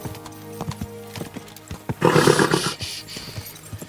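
A horse in the video game Kingdom Come: Deliverance II clops its hooves in a steady rhythm, then lets out a loud, rough whinny midway before the hoofbeats resume.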